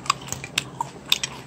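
Someone chews a crunchy fried glass-noodle dumpling close to the ear, giving a series of sharp, irregular crackling bites and crunches, fairly quiet and without talk.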